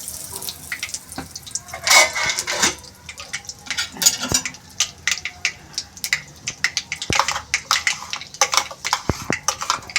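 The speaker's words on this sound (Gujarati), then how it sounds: "આપણી રાઈ તતડે છે." Mustard seeds crackle and pop in hot oil in a pan while misal is being cooked, giving a dense run of sharp, irregular snaps and sizzles close by, with no talking.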